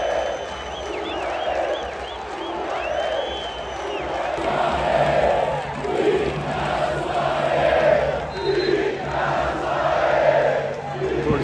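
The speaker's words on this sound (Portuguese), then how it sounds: "Torcida cantando o nome dele aqui" A football stadium crowd at a Botafogo versus Grêmio match chants a player's name in steady, rolling waves, loud and sustained from a distance with whistles and cheers over the top.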